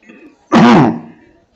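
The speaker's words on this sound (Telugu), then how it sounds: "ఇంకా దగ్గు బాగా వస్తుంది వాళ్ళెందుకో. జలుబు అయింది కొంచెం." A lamb at a Saturday livestock market in Achampet gives a single loud, close, rough cough-like bleat with a wavering voiced tone, lasting under a second after quieter background murmur.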